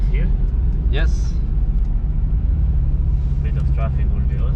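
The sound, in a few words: BMW M4 car on the Nürburgring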